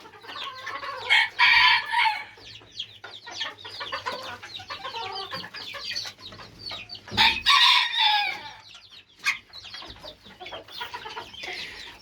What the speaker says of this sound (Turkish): Süper bir horoz ve artık eşliyor.